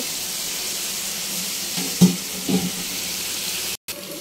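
Bata fish frying in a pan give a steady, close sizzle throughout, with a few soft stirring knocks near the middle and a brief break near the end.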